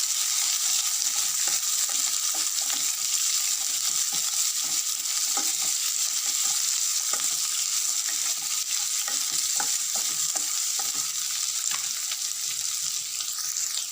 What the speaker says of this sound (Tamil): வெட்டி வச்சுருக்க வெங்காயத்தையும் பூண்டையும் இதில் ஆட் பண்ணிக்கோங்க